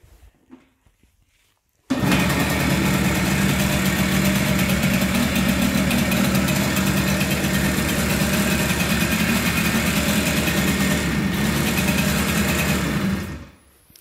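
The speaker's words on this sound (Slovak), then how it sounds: "Takže motorka ide," A Babetta moped engine idles steadily after a quick restoration, starting abruptly and running with a loud, even mechanical drone and faint vibration for about eleven seconds before cutting off, with no talking.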